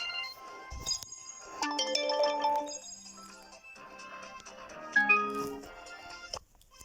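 A phone rings indoors with a bright tonal melody of rising and falling notes, mixed with clicks and clinks, fairly loud and filling most of the seven seconds.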